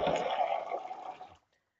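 Water being poured for cooking, a gushing, splashing pour for just over a second that then stops abruptly, leaving near silence, with no talk.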